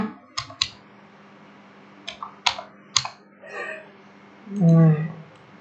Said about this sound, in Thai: ไปที่ตัวทีค่ะ คลิกตัวทีนะคะ